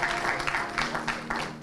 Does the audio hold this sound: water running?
no